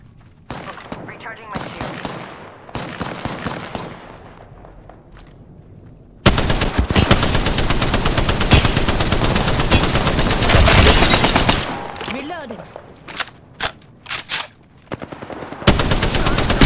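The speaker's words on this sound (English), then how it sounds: "Shots fired, and they're hitting me." Loud video game gunfire, with sustained automatic bursts and rapid single shots coming in waves, heavy continuous firing in the middle and scattered shots around it, a voice talking over parts of the action.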